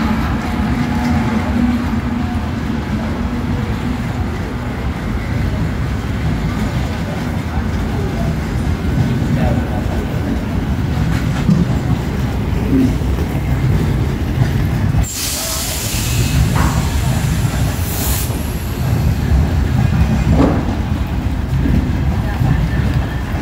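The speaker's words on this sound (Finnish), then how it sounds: "Se on tavarajuna" A freight train rolls into a station, its steady low rumble and hiss running throughout, with a brief sharp burst of brake or wheel noise partway through and occasional talk nearby.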